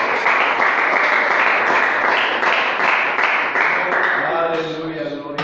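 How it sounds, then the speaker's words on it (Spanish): A church congregation claps together in worship, a dense, loud wave of applause that holds steady, then thins and fades near the end as voices begin to come through. "Dando un aplauso, un gloria a Dios"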